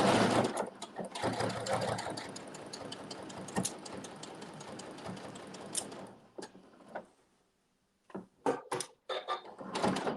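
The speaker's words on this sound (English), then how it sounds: "I'm just going to continue to sew right on that stitching" A sewing machine runs stitching along fabric seams, a close, fast mechanical whirring patter that runs steadily and then stops, followed by a few short clicks and knocks as the work is handled.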